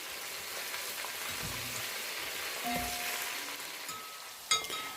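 A steady, crackling sizzle of onions frying in a pan fills the clip, with a few faint clinks and one sharp tap near the end.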